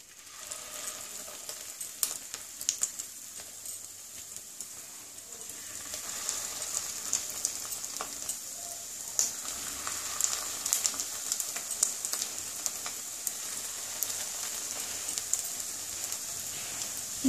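Fish roe fritters (macher dimer bora) frying in hot oil on lowered gas, a soft continuous crackle and pop with scattered sharper spits, growing slightly busier partway through.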